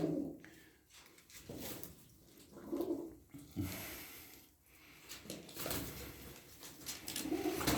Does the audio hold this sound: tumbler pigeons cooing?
yes